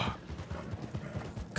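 Horse hooves clip-clop at a steady trotting rhythm in Red Dead Redemption 2 Online, a continuous run of close, evenly spaced hoofbeats on the ground with no talking.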